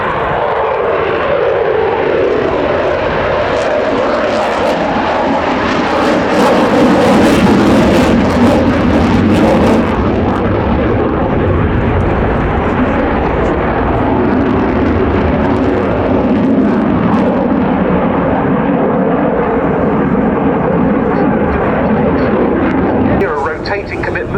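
Military jet aircraft roaring loudly and continuously at the RAF Cosford airshow, a steady broad engine rumble holding for the whole stretch, with a public-address voice talking over it throughout.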